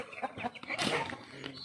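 Startled chickens and chicks being chased at a village home give a quick flurry of agitated clucks and squawks, close and moderately loud, with no speech.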